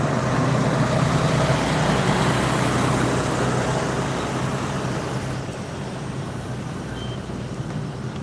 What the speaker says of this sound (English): Some truck just went by.